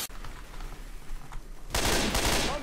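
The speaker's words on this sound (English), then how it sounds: "Will you stop shooting me, Scott?" Rapid gunfire rattles through a Left 4 Dead 2 co-op session, with sustained automatic shots at first, then a louder, denser barrage of bursts near the end.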